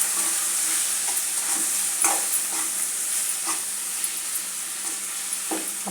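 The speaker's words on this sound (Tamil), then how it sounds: "அதை சேர்த்து அப்படியே ஒரு வதக்க வதக்கிடலாம்" Radish and homemade masala powder sizzle and fry in a pan with a steady hiss, punctuated by several clear scrapes and clinks of a spoon stirring, close up and alone.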